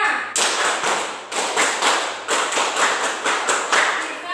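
Group of people clapping a rhythmic school chant routine, the 'tepuk SMK', in a classroom setting: repeated bursts of loud, close clapping in an even patterned rhythm, with no talk over it.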